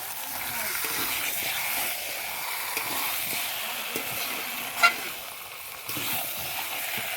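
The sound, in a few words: chicken being fried and stirred in a pan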